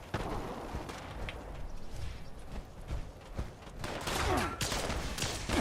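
Enemies in a video game fire at the player in bursts of gunfire, with irregular shots cracking through the clip and a denser, louder volley near the end.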